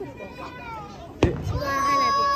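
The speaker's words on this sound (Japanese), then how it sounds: "街でやる単位の花火のレベルじゃないと思います、本当に。" A professionally launched firework bursts once with a sudden boom at a spring cherry-blossom festival in Nakai, Kanagawa, mid-distance, amid crowd chatter and people talking.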